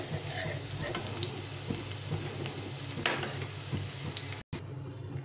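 Potatoes fry in hot oil for a Bengali paneer and cauliflower dish, giving a steady close sizzle with occasional stirring scrapes, and a brief dropout near the end.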